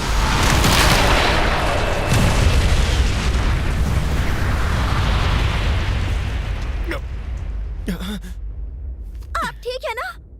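Wind blast magic attack from an anime fight unleashes a loud, sustained roaring rush of air that fills the first seven seconds, then fades out as voices speak briefly.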